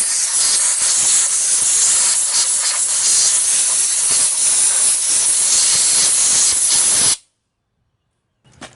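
Brake cleaner sprays in a loud, steady aerosol hiss onto a Honda small engine for about seven seconds, then cuts off abruptly, followed by silence and a faint brief sound.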